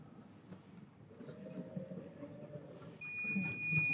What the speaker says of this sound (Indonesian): aktuator buzzernya akan berbunyi seperti ini